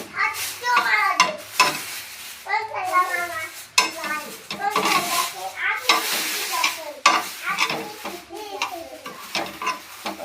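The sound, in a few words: roasting amla and coconut in a pan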